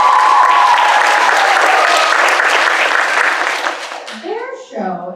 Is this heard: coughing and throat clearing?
no